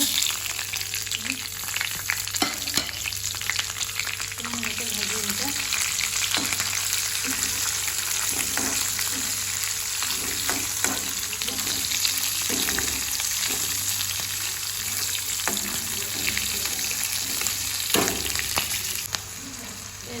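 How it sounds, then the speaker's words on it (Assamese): Ingredients sizzle and fry in hot oil in a home kitchen, a steady crackling hiss running throughout with occasional stirring clinks and scrapes, close and moderately loud. "এয়া তেলখিনি গৰম হ'ল এয়া বস্তু এয়া দি দিম"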